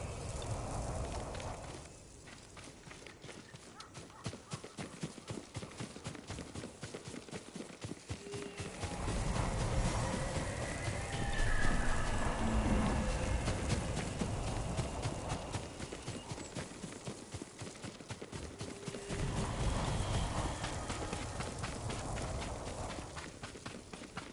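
Horse hooves clip-clop in the video game Ghost of Tsushima, a steady rhythmic trot that continues throughout, fairly close, with swelling background ambience and no speech.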